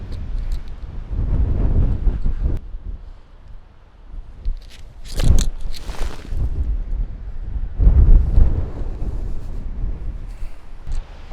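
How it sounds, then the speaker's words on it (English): Strong desert wind gusts in uneven bursts across a golf course, buffeting the microphone with loud low roaring swells and a sharp flurry in the middle. "wind's in the face"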